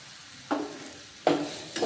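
Cumin, coriander and Kashmiri chilli powder fry in a pan under a low sizzle, with three quick spoon-stirring scrapes in an uneven rhythm and no talking.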